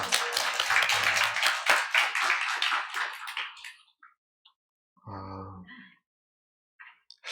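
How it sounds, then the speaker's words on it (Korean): Korean church congregation claps together in praise to God, a dense burst of hand claps lasting a few seconds and then stopping abruptly, followed by a brief voice and scattered small sounds in the quiet. "하나님께 박수로 한번 영광 올리겠습니다"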